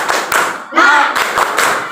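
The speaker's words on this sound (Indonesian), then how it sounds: "kita awali dulu dengan tepuk semangat" Students in an Indonesian classroom perform the rhythmic tepuk semangat spirit clap, loud, close bursts of clapping in short patterned groups with a brief pause between them.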